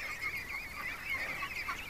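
A flock of geese and ducks honks continuously in a faint, distant chorus of overlapping calls, with no voices.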